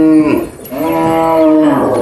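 Cattle at a Thai cattle yard in Ratchaburi moo loudly and close, two long, deep, drawn-out lows, one after another.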